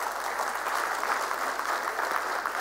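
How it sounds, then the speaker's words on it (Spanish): Steady, dense applause from an audience at a sports media conference, recorded at moderate level and continuing unbroken for the whole short stretch. "podemos dar un aplauso al rugby argentino"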